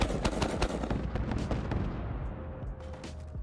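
Rapid, evenly spaced bursts from a 40mm automatic grenade launcher, a heavy weapon added by a Fallout 4 mod, firing at the ground with detonations blending into a loud, continuous string of booms that eases off near the end.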